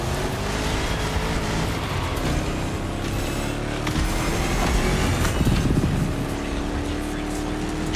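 A 1969 Ford Mustang Boss 429 V8 in The Crew Motorfest, its engine droning loud and steady with shifting pitch under a busy mix, briefly surging near the end.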